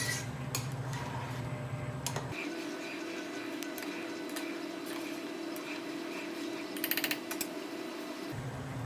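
Pilau rice mixed in a pan over high gas, with light scraping and clinking of a utensil against the pan over a steady background hum, a small cluster of sharper clinks near the end.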